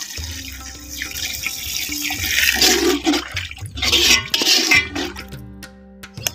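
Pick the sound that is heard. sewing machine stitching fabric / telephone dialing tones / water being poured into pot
water being poured into pot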